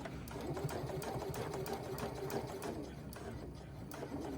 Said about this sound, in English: And that is a much more even line of stitches.